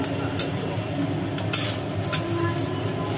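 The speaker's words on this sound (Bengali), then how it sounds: "নুন হলুদ মাখিয়ে রাখা চুনো মাছগুলো এখন ভাজা হচ্ছে।" Small chuno fish coated in salt and turmeric fry in hot oil in a pan, giving a steady close sizzle and crackle with a few sharper spits and stirring clicks.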